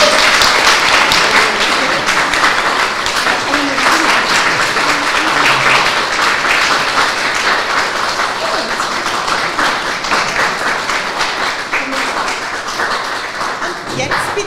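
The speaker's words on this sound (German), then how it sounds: "da darf bitte jetzt ein großer Applaus nicht fehlen" Sustained applause from a crowd at a wedding, steady and loud throughout, with scattered voices mixed in.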